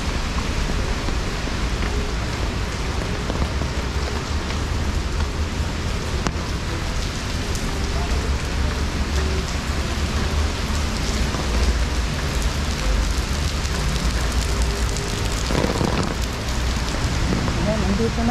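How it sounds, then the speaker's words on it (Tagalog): Heavy rain pours steadily and loudly, a dense continuous hiss of drops on surfaces with no breaks. "Ay, malakas na ang ulan."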